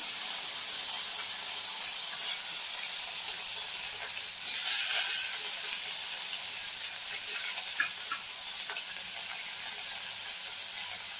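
Sliced onions frying in oil in a pan make a steady, even sizzling hiss that runs without a break, close and moderately loud, with faint kitchen clinks.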